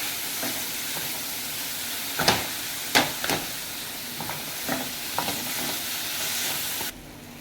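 Lentils are added to a pan with the gas on very low while making spiced atta and dal mathiya, giving a steady soft sizzle with several clear scraping stirs and no talking.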